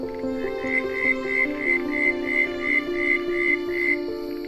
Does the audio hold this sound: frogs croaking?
yes